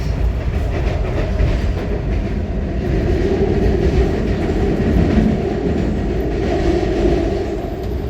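A commuter train rolls steadily along the rails in the Philly area, a loud, continuous rumble with faint clickety-clack heard from inside the car, no talking over it.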